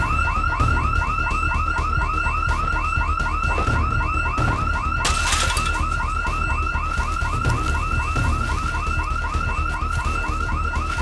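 A car alarm in the video game Project Zomboid blares loudly and continuously, cycling through a fast rising-and-falling warble that repeats steadily without any talk.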